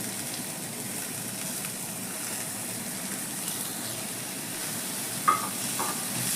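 Chopped carrot and tomato sautéing in a pan with salt give off a steady, soft sizzle and hiss, with one small clink near the end.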